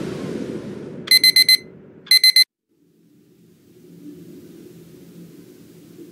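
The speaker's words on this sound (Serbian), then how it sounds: "O, zaboravio sam ugasiti alarm." An electronic alarm goes off in the video game Embracelet, two short bursts of rapid high beeping, loud and close, over a low engine-like rumble that fades and then returns.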